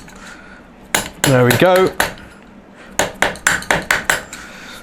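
Metal tapping as a tab washer is bent up onto a nut during a classic Fiat 500/126 engine rebuild: a few sharp clinks, then a pause, then a quick run of about six even hammer-like taps, up close, with a brief spoken remark between them.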